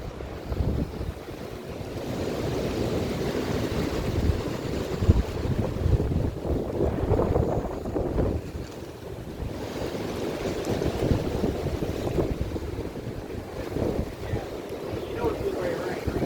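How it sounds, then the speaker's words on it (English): Strong gusty outdoor wind buffets the microphone, swelling and easing in uneven rushes of rumbling noise at moderate loudness, with a voice faintly talking under it at times. "There's like big gusts, like probably 30 mile an hour."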